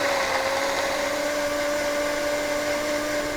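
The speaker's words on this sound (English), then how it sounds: "Pour in your water and blend it up." A blender whirring through tofu Caesar dressing with water, a loud, constant high-pitched motor whine running steadily throughout with no talk.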